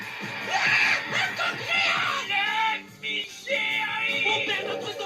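Animated characters in a One Piece film scream and yell in overlapping, shrill bursts, loud and close, with brief pauses between outbursts.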